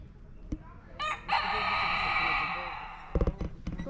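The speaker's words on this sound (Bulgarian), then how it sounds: "Това е някакъв странен петел." A fowl at Stara Zagora zoo lets out a long, loud, rooster-like crow lasting over a second, followed by several short clucks, with people talking nearby.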